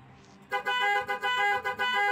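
A musical car horn with nine tones is tested after installation, sounding loud bright honks in quick succession with short breaks between tones, close and alone.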